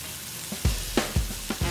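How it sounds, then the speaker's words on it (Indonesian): Skewers of Padang-style satay from Bukittinggi sizzle as they grill, with a steady frying hiss broken by several soft thumps and crackles as the sticks are moved. "Langsung aja yuk kita bakar satenya."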